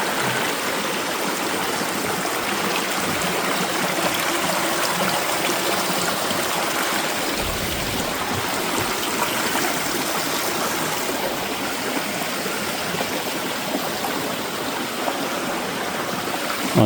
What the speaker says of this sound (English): I got a creek again.